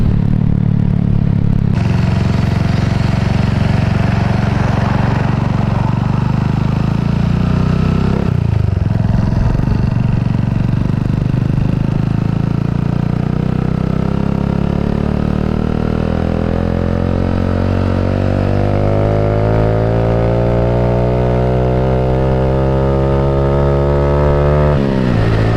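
A Suzuki Raider J115Fi motorcycle with a 15/34 sprocket setup roars at high speed near 120 km/h, its engine and exhaust droning loud and continuous, with pitch climbing steadily toward the end under heavy wind rush.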